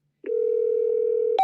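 A steady telephone dial tone begins abruptly and holds evenly for over a second when calling about a phone, clear and alone, ending with a brief higher click.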